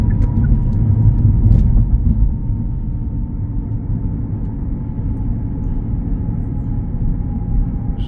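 A 2021 Genesis G90 at highway speed in 8th gear under kick-down acceleration, a deep low rumble of engine and road noise building steadily inside the cabin.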